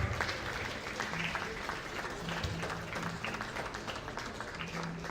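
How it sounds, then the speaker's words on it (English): An audience at an entrepreneurship lecture series applauds as the chairman arrives, a continuous, fairly soft crowd clapping with a faint low hum and background murmur throughout. "A round of applause, please."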